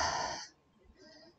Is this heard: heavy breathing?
yes